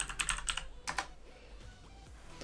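Keystrokes on a computer keyboard during Windows setup for a Minecraft modding workspace, a quick burst of close, crisp clicks in the first second, then quieter room hiss.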